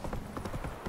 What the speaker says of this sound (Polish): koń mi zbłądził. Koń chciał do świni